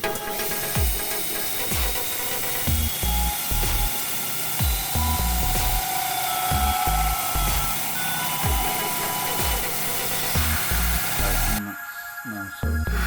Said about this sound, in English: then I'm going to drill it with this spade bit.